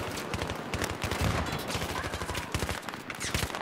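Rapid bursts of automatic gunfire crackle continuously in the video game Battlefield 3 on PS3, with dense overlapping shots forming a sustained loud fusillade.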